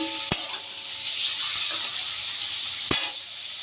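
Egg-cut tomato pieces fry in a pan for a prawn do pyaza, with a steady soft sizzle and two sharp utensil taps against the pan.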